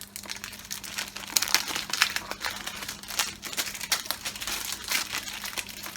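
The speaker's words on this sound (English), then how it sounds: "Let's take the plastic off though." Plastic shrink wrap is peeled off a 4K disc case in a continuous run of close, dense crinkling and tearing crackles, loud and unbroken from start to finish.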